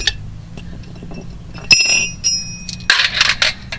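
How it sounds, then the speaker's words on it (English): Metal lug nuts from a VW Type 3 rear wheel clink into a hubcap, a few bright, close metallic chinks and rattles in a burst after a quiet stretch. "Take your lug nuts back out."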